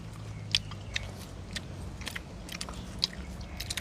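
Fresh, crunchy jackfruit just picked from the tree is bitten and chewed up close, giving a string of faint, crisp crunches at irregular intervals over a low background murmur.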